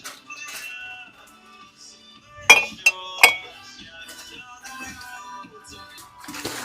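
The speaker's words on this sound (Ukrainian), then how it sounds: "Стакани скляні хвилясті за 69 гривень одна штука." Wavy glass tumblers knocked together in a shop, a couple of sharp bright clinks with short ringing tails standing out over quiet background rustle and faint talk.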